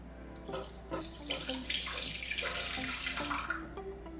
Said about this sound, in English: Now we're gonna strain it into another pot so that we can start to make our custard for the ice cream.